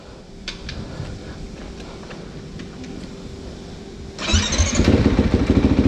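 Motorcycle engine being started after servicing, with a steady mechanical rumble that surges louder as it catches and runs near the end.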